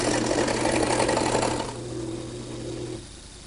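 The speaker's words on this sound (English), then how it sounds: "Now with the blank mounted in the lathe, I'm just going to turn it on at low speed to see if it looks balanced." A wood lathe holding a chair-leg blank runs at low speed with a steady mechanical hum and whir, which winds down partway through.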